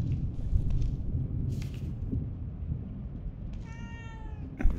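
A cat meows in the video game The Evil Within 2, one clear tonal meow near the end over a low rumbling ambient bed with scattered faint noises, followed by a brief sharp sound.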